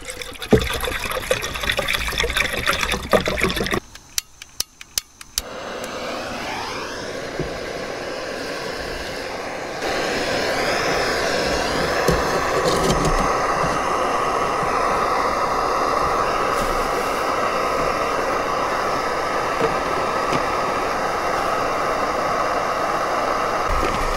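Water coming to a boil in a pot or kettle at a nighttime lakeside fishing camp, a steady bubbling, hissing rumble that starts softly and builds to a continuous roll, close and alone without talk.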